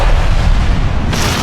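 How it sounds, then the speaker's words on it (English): An explosion in an audiobook, a loud, sustained roaring blast that fills the whole clip, with a brighter burst of debris-like noise near the end and no voices. "the explosion knocked them clear off the steps, across the sidewalk, and into the snow-covered street"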